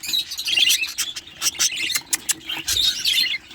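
Budgerigars chirp and squeak busily at a breeder's aviary, a dense chatter of many small birds close by with overlapping high calls and no talking.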